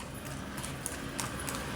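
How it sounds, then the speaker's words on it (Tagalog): Hooves of a horse pulling a kalesa clip-clop faintly along the Manila Bay waterfront, a few soft, scattered hoof strikes over steady background noise. "May kabayo pang dumarating, no?"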